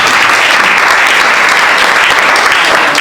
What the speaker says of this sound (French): nous vous demandons de l'applaudir chaleureusement